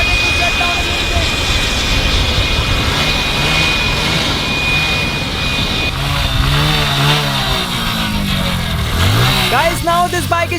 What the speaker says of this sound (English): Guys, this bike of yours has now started to shut down a little bit.